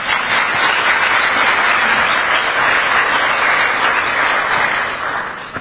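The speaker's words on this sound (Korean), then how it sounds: "감사의 박수 한번 보내드리시죠." Steady, dense applause from a large audience at an overseas Korean community gathering in the Philippines, sustained and loud for the whole stretch before easing slightly near the end.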